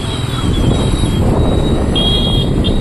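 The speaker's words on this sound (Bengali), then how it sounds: "বাস আসছে" A bus approaching on a busy road, with engine rumble and traffic noise steady throughout at close range, a high whine running across and a brief horn-like tone near the end.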